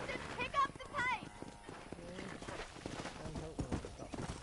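Horse hooves clip-clop at a quick gallop in the Western video game Red Dead Redemption, with a horse's snort or whinny and a rider's shouted urging over the steady hoofbeats.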